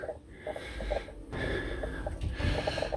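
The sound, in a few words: person puffing and panting from exertion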